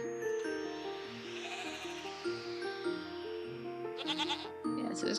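A green goat in the farming game Equilinox bleats in a long wavering call over soft, chiming game music, with brighter tinkling tones near the end.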